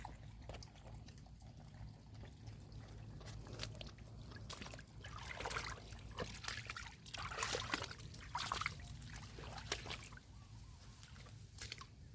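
A forest stream trickles steadily in the background of a mushroom-foraging walk, a soft continuous flow of water with small splashes and occasional crackles, no voices heard.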